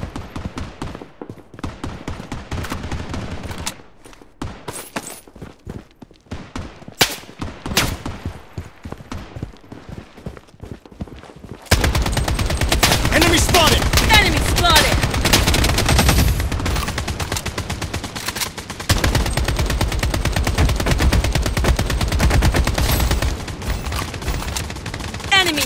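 AK-47 fire in the shooter game Project BloodStrike: loud, rapid automatic bursts and single shots crackle throughout, with a denser, louder stretch of sustained firing and battle noise in the second half.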